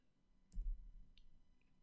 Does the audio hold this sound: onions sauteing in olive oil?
no